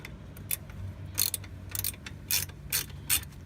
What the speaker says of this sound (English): So there's your 2 hitch tighteners, which I'm about to tighten.